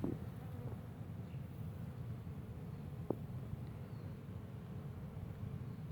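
Bees buzzing among purslane flowers in a permaculture garden on a morning after overnight rain, a faint, continuous low hum with one brief sharp sound partway through.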